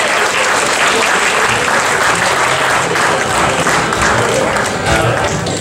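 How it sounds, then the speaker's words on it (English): Loud, dense applause from a large crowd, steady and sustained throughout with no break. "We're going to have a couple of big round of applause for the sons of Margaret"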